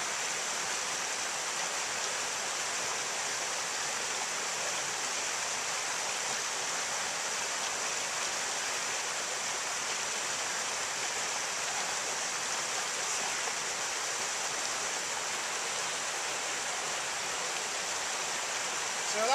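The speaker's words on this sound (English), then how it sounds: "we're just down at the river, and we're going to get some water in our billy can" River water flows steadily at a mountain riverside, a constant near rushing wash that holds its level with no breaks for the whole stretch.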